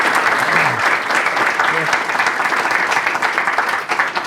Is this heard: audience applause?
yes